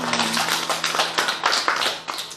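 A church congregation claps together during Sunday worship, a quick run of even, rhythmic hand claps filling the room over a faint sustained musical tone.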